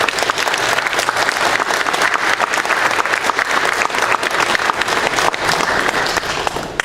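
Audience applause follows a talk on sustainable agriculture and food systems, a loud, dense crackle of many hands clapping close by, sustained evenly for nearly seven seconds.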